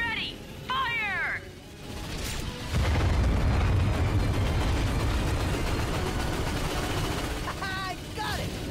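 The Starwatch ion cannon fires in Ratchet and Clank, releasing a deep, loud roaring blast that rumbles on for several seconds, with short electronic chirps just before and after it.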